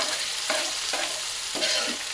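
Sliced onions fry in hot white oil in a wok, giving a steady sizzle broken by several close scraping stirs at roughly even intervals. No one speaks.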